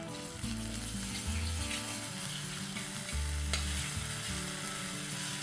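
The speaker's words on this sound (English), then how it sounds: "I'm going to add a tablespoon of ginger paste, a tablespoon of garlic paste, and fry this till the raw smell goes off." Ginger paste and garlic paste fry with onions in a pan for a dry mutton sukka masala. A steady, close sizzle carries on throughout, broken by scraping thuds from regular stirring.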